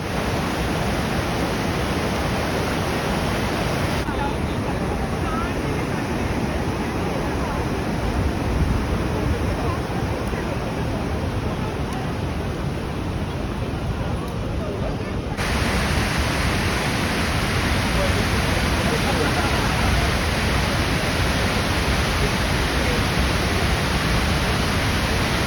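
Athirappilly waterfall in Kerala, running at high volume, roars as a loud, continuous broadband rush of falling water, steady and close with no other sounds.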